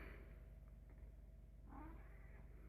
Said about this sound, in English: You might hear Misty, my cat.